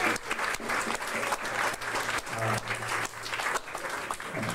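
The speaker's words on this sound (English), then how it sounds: "And so I'd like everyone to give Gregory Thomas King a warm round of applause" Audience at a live show at the Black Cat breaks into dense, sustained applause, many hands clapping close and loud with a few voices mixed in.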